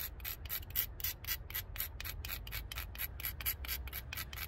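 A flint platform edge is ground down with a rubbing abrader during knapping, giving a rapid, even series of short raspy scrapes, close but quiet, with no talking.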